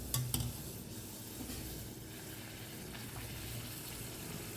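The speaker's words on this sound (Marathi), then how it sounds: "ओके आता फ्राय करूया." Christmas sweet nevryo frying in hot oil, a soft, steady sizzle and bubbling with a couple of faint clinks near the start, continuous and low in level throughout.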